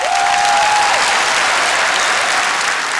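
Audience applause fills a live stage show, dense and sustained clapping at steady loudness throughout, with a faint whistle-like tone near the start.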